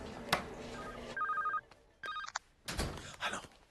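A mobile phone rings in a room with short electronic beeping tones in two bursts, mixed with thumps and brief sounds of movement.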